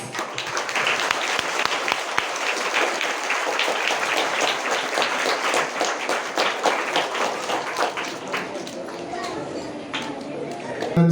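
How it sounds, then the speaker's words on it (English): Students at a college inauguration event give a long, loud round of applause for the chief guest, dense clapping sustained throughout with a voice talking over it. "Dear students, please stand up and give a great applause."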